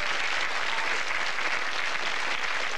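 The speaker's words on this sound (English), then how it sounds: "Retake your seat and give him a round of applause." A studio audience at the 1988 ITV game show Blockbusters gives a steady, dense round of applause that holds at an even level throughout, with no voices standing out.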